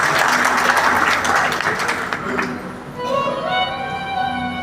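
A crowd at a Shiv Puraan katha gathering in Ekta Nagar claps loudly in welcome for the pandit, the applause fading after a few seconds as music and voices take over.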